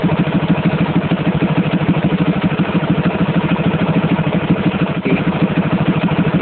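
A motorcycle engine fitted with a Rextor CDI idles close and loud, a steady rapid thumping pulse that holds an even rhythm, with no voices over it.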